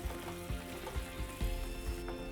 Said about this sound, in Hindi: और इसको बस हल्का सा उबलने देंगे।